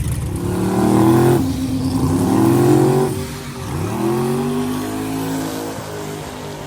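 A twin-turbo LS car engine revs repeatedly, rising and falling in pitch through several pulls, loud and close, with a high whine near the end.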